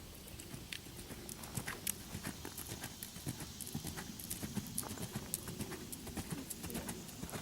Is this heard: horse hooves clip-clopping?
yes